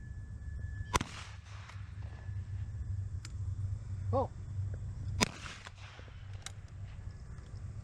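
Rare Ithaca 5E shotgun fired at clay targets outdoors, two sharp loud shots several seconds apart with a short echo after each, under faint background rumble.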